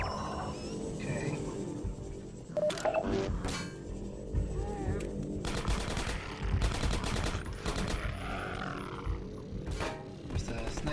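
Sniper gunfire and combat in Half-Life 2: Episode One, sharp loud shots cracking out at irregular intervals over a rumbling game soundscape, with speech heard in the mix.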